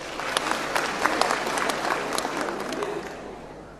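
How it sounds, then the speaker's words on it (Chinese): A theatre audience at an opera awards gala in Shanghai applauds, a dense burst of clapping from many hands with a faint crowd murmur that fades toward the end. "好，掌声有请"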